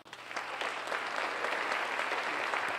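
An audience at a lecture series claps steadily, a dense, even wash of many hands that rises at the start and holds full and sustained throughout, with no voices standing out.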